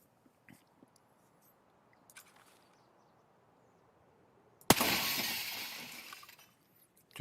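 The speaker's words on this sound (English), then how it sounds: "Makes noise on this side and the opposite side the glass falls." A window pane breaking in Escape from Tarkov: after a few faint ticks and taps, one sudden loud smash bursts out, and falling glass rattles down and fades over about two seconds.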